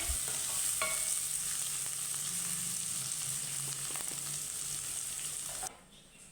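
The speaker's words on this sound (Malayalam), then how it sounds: "എല്ലാം കൂടി ഇനി എണ്ണയിൽ കിടന്ന് ഒന്ന് വേകട്ടെ" Garlic and spices cook in oil in a pan, giving a steady, even sizzle with faint stirring taps that drops away sharply near the end.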